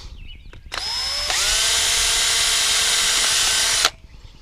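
A power drill bores a hole for a 1/4-inch-20 bolt in a kayak GoPro mount, starting with a short whine, then ramping to a loud, steady high-pitched drone for about three seconds before stopping abruptly.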